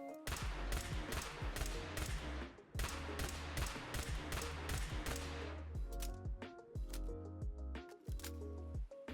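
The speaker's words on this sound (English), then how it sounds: "Here is the pistol version of the weapon, firing and reloading." Laser pistol in Fallout 4 firing and reloading, a rapid string of sharp evenly spaced shots for about three seconds, then a slower run of clicks and mechanical reload noises over a low game background.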